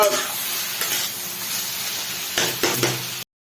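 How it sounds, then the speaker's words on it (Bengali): Shrimp frying in a pan with pumpkin leaves, stirred steadily, giving a close, continuous sizzle broken by a few louder scraping stirs near the end before it cuts off abruptly. "তারপরে ওর মধ্যে দিয়ে দিলাম চিংড়ি মাছ তারপরে আবার ভালো করে ওটাকে নাড়াচাড়া করতে হবে"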